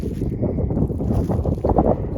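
Steady wind buffeting outdoors over winter crop fields on a frosty, snowless February day, a continuous low rumble with gusts swelling and fading, close and fairly loud, no voices.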